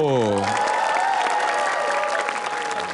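A studio audience applauds and cheers for Bayu Wibowo on a TV comedy show. Dense, steady clapping carries loudly throughout, beginning over a brief tonal sound.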